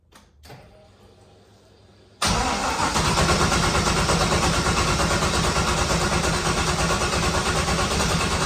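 A car engine fitted with new injectors and a new tune cranks briefly, catches with a sudden loud start, then settles into a steady, rough-edged idle close by.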